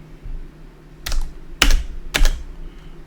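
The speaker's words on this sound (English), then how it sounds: "I'm gonna use the space bar. You'll hear a click." A computer keyboard space bar gives three distinct clicks at roughly half-second intervals, each a sharp, close tap standing out over a low background hum.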